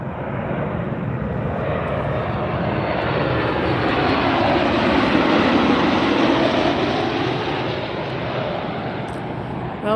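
An aircraft arriving at Las Vegas airport roars loudly and steadily, its broad engine rush swelling slightly toward the middle as it passes close by.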